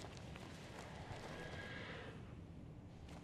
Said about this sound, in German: Ich habe gerade Pferde gehört.